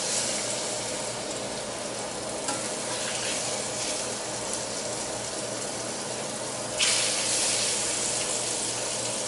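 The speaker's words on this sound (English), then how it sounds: "You want to hear that sizzle when you put meat into a pan." Pork chops frying in a pan, a steady loud hiss and sizzle filling the clip with faint crackles, close up and unbroken, rising slightly near the end.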